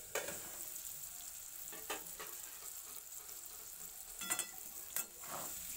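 Potatoes lightly frying in oil, a soft continuous sizzle with a few brief clatters of stirring scattered through.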